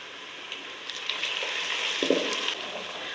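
Garlic-ginger paste sizzles in a pan with browned onions and spices for a mutton curry gravy. The steady, close frying hiss is broken by a brief stir partway through.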